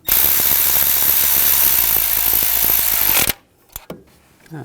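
Power tool snugging down the dipstick tube bolt on a 2014-2018 GMC Sierra 1500 5.3L V8 during a valve cover job, a loud steady whirring buzz for about three seconds, then a stop followed by a couple of faint clicks.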